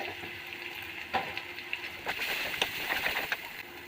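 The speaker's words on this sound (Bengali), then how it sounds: "এতে আমি 1 চামচ হলুদ দিয়ে দেবো এবং 1 চামচ লঙ্কা দিয়ে ভালো করে কষাবো।" Spices with turmeric and chili fry in oil in a pan, a continuous close sizzle with intermittent scrapes and knocks of a spoon stirring the masala, no voices present.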